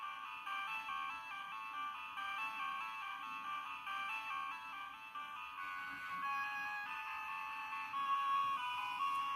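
Bright, beeping electronic game music from a Bandai WonderSwan Color handheld, with a looping tinny melody, plays steadily and fairly close.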